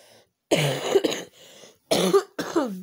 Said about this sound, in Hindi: मुझे आजकल ज़रा खांसी है